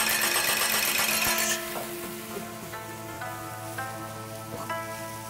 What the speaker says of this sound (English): Lisa learns quick chopping with bean sprouts.